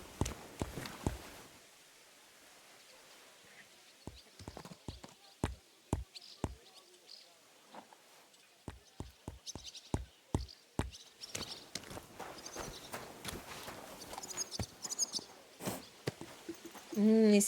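Horse hooves clop along at a walking pace in the medieval game Kingdom Come: Deliverance II, a series of distinct dull thuds with light birdsong and ambient sounds behind.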